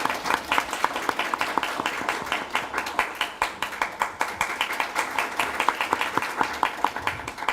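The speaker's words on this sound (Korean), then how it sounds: "박수로 환영해 주십시오" Audience applause in a seminar hall welcoming a lawmaker to the podium, steady dense clapping from many hands throughout, moderately loud with no talk over it.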